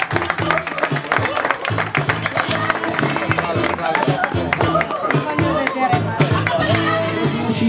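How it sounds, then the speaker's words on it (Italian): Applause from an audience at a Bottero fashion show runway event, dense sustained clapping mixed with background music and crowd noise throughout. "Ancora un applauso perché lo meritano."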